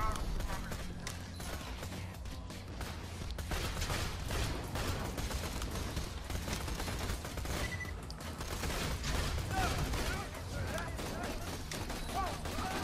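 Pistol gunfire in Borderlands 2 crackles through a dense, busy firefight, with repeated shots layered over constant game noise and music for the whole stretch, and a voice talking over the action.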